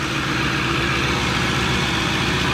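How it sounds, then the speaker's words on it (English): Cold-start idle of a 1,000 HP Ford F150 sleeper build: a loud, steady, rough engine rumble held close with no breaks or changes in level. "It's idling at 13 Yeah, it's still on the cold start idle."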